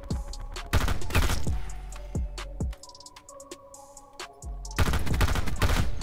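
M16 rifle fire in a first-person shooter game, coming as repeated loud bursts of close shots with punchy echoing tails, a quieter stretch of a few isolated shots in the middle, then another heavy burst at the end.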